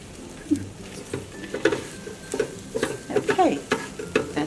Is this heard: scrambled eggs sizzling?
yes